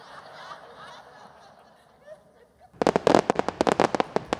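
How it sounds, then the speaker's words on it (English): A fireworks sound effect bursts in loudly after a stretch of quieter talk and chatter, firing as a rapid string of sharp cracks and pops that crackle on to the end. "These are my fireworks."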